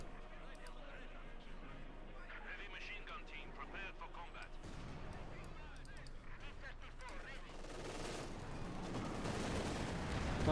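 Tank guns and battlefield fire in Company of Heroes 2, with a Panzer IV and Soviet T-35 tanks trading shots: dense overlapping booms and crackling gunfire building in loudness toward the end, under a fast-talking commentator.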